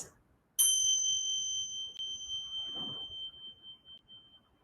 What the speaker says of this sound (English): The sound of this bell